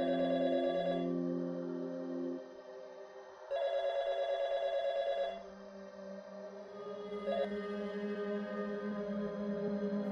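A telephone rings in two long electronic tone bursts separated by pauses, moderately loud indoors, over a quiet background of music-like tones.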